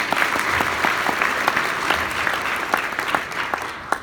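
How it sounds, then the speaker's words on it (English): Audience applause at a seminar, a steady wash of many hands clapping for about four seconds with no voices over it. "give them a round of applause."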